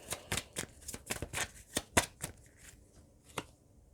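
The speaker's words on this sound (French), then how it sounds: "on va essayer de rajouter des cartes" Tarot cards shuffled and laid down in a series of quick, crisp riffs and taps, close and fairly quiet, with no voices.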